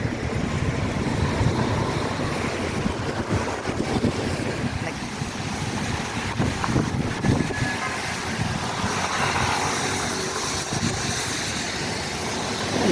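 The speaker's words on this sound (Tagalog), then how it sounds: "Ang lakas ng hangin taas." Strong wind buffets the microphone outdoors near water, a continuous rough rumble with gusty surges that holds throughout.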